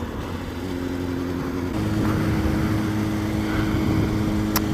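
Honda CBR600F4i motorcycle underway, a steady close engine drone with constant low harmonic hum and rushing wind, holding level throughout with no talking.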